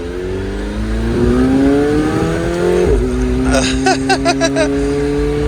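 A McLaren 720S sports car engine revs and pulls away, its pitch climbing steadily through one gear before a shift, with a run of sharp burbles and crackles near the end, close and loud.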